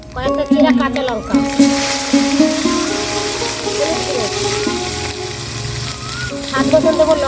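Green chillies and five-spice seeds crackle in the hot oil left from frying snakehead fish for a tangy mango curry, a steady bright sizzle rising after the first second and carrying on beneath a voice and tonal background sound.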